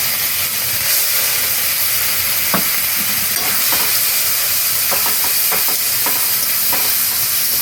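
Grated onion frying in hot oil with fish spices gives a loud, continuous hiss and sizzle with scattered crackles and light stirring knocks throughout, no voices.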